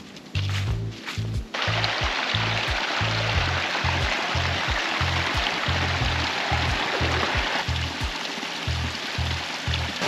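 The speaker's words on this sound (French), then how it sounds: "nous sommes donc à la cascade du Dard de Nozon" The Cascade du Dard waterfall on the Nozon pours with a loud, steady rushing roar, close by, under rhythmic low thumping from wind on the microphone.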